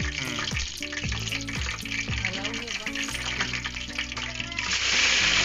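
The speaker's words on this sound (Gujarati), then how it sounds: "સરસ મજાનો અહીંયા વઘાર તૈયાર થઈ રહ્યો છે." Dried red chillies and spices for a Gujarati handvo vaghar hiss and sizzle steadily in hot oil, a dense continuous frying noise close by, with stepped musical tones running underneath and the sizzle swelling louder at the end.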